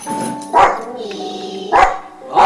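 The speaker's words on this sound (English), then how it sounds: "She's never barked on the show before." A pet guard dog gives three short, loud barks spaced about a second apart indoors, with people talking throughout.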